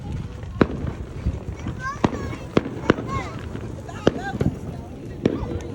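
July 4th firecrackers and fireworks pop in a series of sharp cracks, about ten spread over several seconds, some followed by whistling rises, with voices talking throughout.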